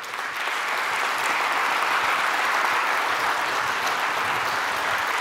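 Conference audience applauding, a dense, steady wash of clapping from a large crowd that holds evenly for several seconds with no talk over it.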